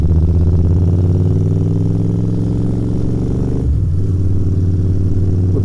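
A Royal Enfield Interceptor 650 motorcycle rolls through quiet Covent Garden streets in London, its engine a steady, close, low drone that dips briefly near the end.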